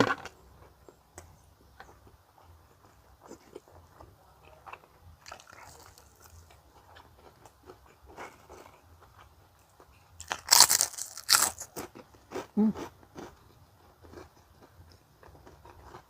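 Crunchy jengkol crackers (kerupuk jengkol) are bitten and chewed up close: quiet chewing and small crackles at first, then a loud cluster of sharp crunches partway through, followed by softer chewing.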